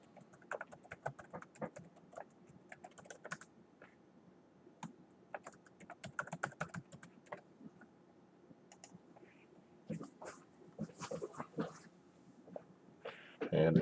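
Someone types credentials on a computer keyboard while signing in to an online account: quick, uneven bursts of light key taps and clicks, fairly quiet and close, with short pauses between runs.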